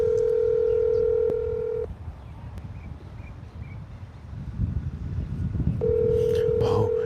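Outgoing phone call ringing out while calling someone back: a steady ring tone sounds loudly at the start, falls away into a stretch of quieter background noise, then returns near the end.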